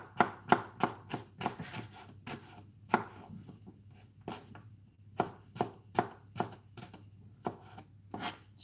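Garlic cloves smashed flat the old-fashioned way in a home kitchen, a run of sharp, close thuds in uneven bursts with short pauses between them, heard alone without talk.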